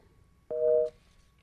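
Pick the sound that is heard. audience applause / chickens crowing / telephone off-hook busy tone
telephone off-hook busy tone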